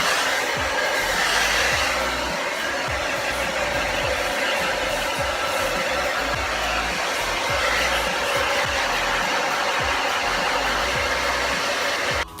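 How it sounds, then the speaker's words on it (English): A hair dryer blows continuously with a steady, loud whooshing roar close by, running without pause until it cuts off at the end. "I'm just going to blast it with a hairdryer"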